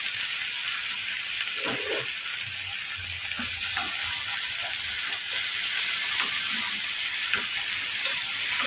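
Tomatoes sautéing in a pan with onion and dried red chillies including Kashmiri chilli for a tomato chutney, a steady broadband sizzle throughout with faint occasional stirring scrapes, close and continuous, no talking.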